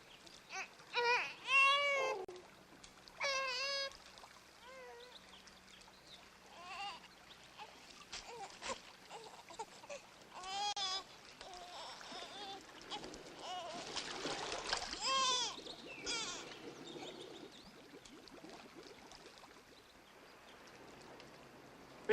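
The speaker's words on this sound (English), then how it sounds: "Fill the ark with water." Water pours and splashes into an ark, a sacred chest, in an ancient Egyptian scene beside the Nile. A broad rushing wash swells in the middle under bleating-like voices and people speaking.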